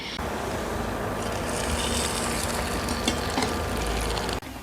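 Moong dal bhalle fry in hot oil, a steady loud crackling sizzle that continues evenly throughout and cuts off abruptly near the end, with no talking.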